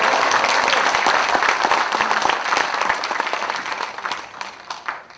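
A crowd at a party election rally applauds a deputy leader candidate, loud sustained clapping from many hands that gradually thins and fades toward the end.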